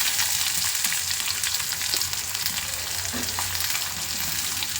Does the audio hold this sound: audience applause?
no